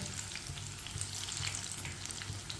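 Pakoras crackle and sizzle in hot oil on a medium flame, a steady dense frying hiss with soft low scrapes of a spoon stirring through the pan, close and continuous.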